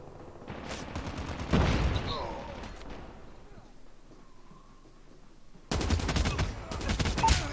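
Gunfire in the mobile shooter game Call of Duty Mobile: rapid automatic bursts crackle loudly at the start, fall quiet through the middle, then return as another sustained volley near the end.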